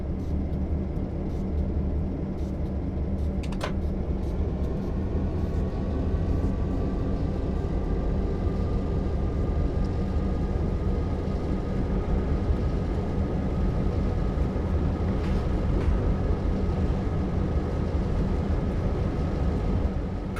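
Locomotive on the Clinchfield Railroad in Train Sim World 2 rumbles with a low, steady drone as it gets moving under throttle, with a faint tone rising early and holding.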